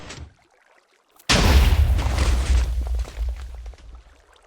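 A TNT cannon shot in the video game Minecraft goes off after a brief hush: one sudden loud, close explosion with a heavy rumbling boom that decays over about three seconds.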